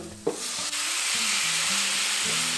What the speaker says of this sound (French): on prend nos tomates et on vient verser ça dans la poêle